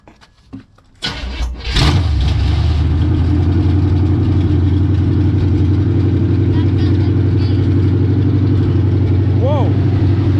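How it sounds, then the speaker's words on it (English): A car engine turned over with the key, a short crank that catches and settles into a steady, loud idle with a faint rev near the end, with people talking quietly during the start. "take the key and you're going to turn it and hold it until you hear it try to start"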